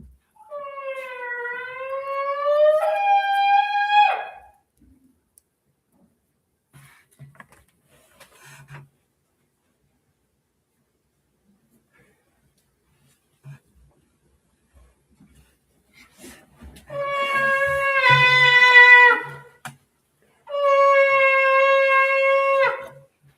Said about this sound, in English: we're gonna blow the horn now to call the people